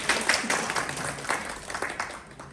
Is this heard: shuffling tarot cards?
no